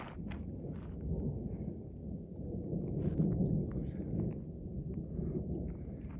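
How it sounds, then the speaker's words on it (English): A low, rumbling roll of far-off thunder on a mountain trail in Colorado swells and fades beneath faint ambient noise, with a few small clicks and knocks. "Been hearing thunder for like the last 20 minutes."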